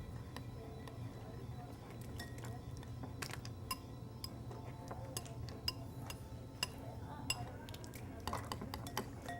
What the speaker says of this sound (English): Noah, why don't you start stirring together right away?